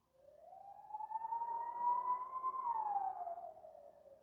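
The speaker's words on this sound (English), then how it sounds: "Y'all hear them sirens?" A single siren wails steadily, rising and falling in pitch as it swells louder and then fades, like an emergency vehicle speeding past.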